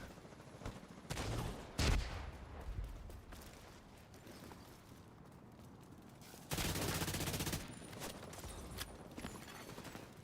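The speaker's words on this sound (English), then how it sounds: "the teammates start spamming the mortar immediately" Mortar and gunfire in The Division 2 video game, heard as bursts of sharp shots and booming impacts, one loud blast early and a dense roaring barrage later, over quieter stretches of battle noise.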